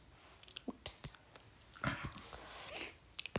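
A pet dog whimpers and growls faintly in the background of a quiet home, giving a few brief whiny bursts and low rumbles with soft breathy noises in between.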